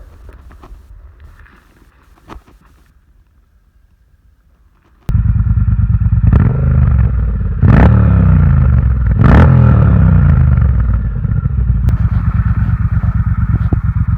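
A Triumph Bobber Black motorcycle starts after a few quiet clicks and a starter sound, then idles loud and close with a steady, rumbling beat, broken by two sharp throttle blips.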